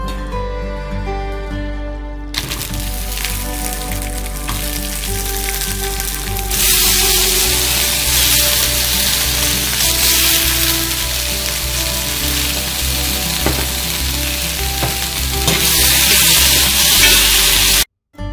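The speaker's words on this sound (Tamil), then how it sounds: "அதுக்கப்புறம் நம்ம எடுத்து வச்சிருக்க மிளகாய், பூண்டு, தக்காளி, வெங்காயம் எல்லாத்தையும் வதக்கிக்கலாம்." Chillies, garlic, tomatoes and onions sauté in a pan for a peanut tomato chutney, a loud, steady close sizzle and crackle that swells as more oil and vegetables hit the heat, alone without talk.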